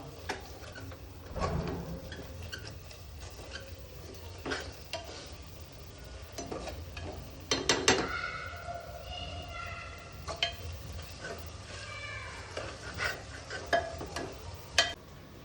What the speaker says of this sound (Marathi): आता मसाला टाकला, थोडासा मसाला परततो